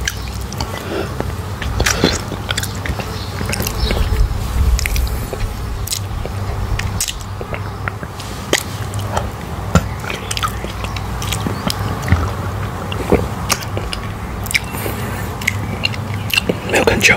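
Close-up biting and chewing of a Winnie the Pooh chocolate lollipop, loud wet mouth sounds and sharp little bites scattered over a steady background, with a voice talking intermittently.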